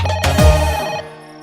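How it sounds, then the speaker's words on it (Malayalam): Telephone ringtone chiming briefly in a scene from a Malayalam movie, a bright musical ring that starts loud and quickly fades into a soft tail. "ചെന്ന് ഫോൺ എടുക്ക്."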